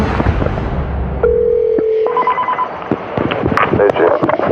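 A telephone is dialed, sounding as a few short keypad tones, one long steady tone, then a quick run of beeps, mixed with speech and background noise.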